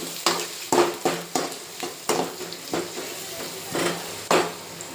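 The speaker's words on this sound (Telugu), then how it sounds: "దీంట్లో అయితే ఎర్రగడ్డ యాడ్ చేసుకుని ఆయిల్లో కొంచెం మెత్తగా కలుపుకొని" Onion fries in oil for a chicken curry while a utensil stirs it, making sharp, regular scraping strokes against the pan over a continuous sizzle, close and fairly loud.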